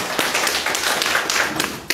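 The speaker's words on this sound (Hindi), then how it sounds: "ताली ताली।" Audience applause at a political party joining ceremony in Jammu and Kashmir, a close, steady patter of hand claps with a few sharper taps, heard alone without speech.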